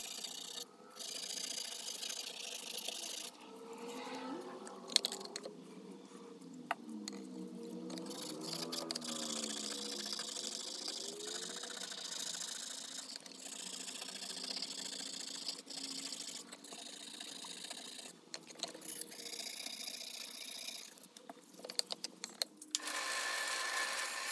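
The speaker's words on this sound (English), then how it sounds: "Here's more wet sanding on the blade with finer abrasive grits." Steady wet rubbing and scraping of a Miller's Falls 1430 chisel blade against fine abrasive grit, continuous strokes with occasional sharp clicks, close and fairly quiet.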